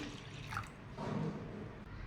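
Water poured into a bowl of black gram lentils, a steady close splashing pour that swells midway, with no voices.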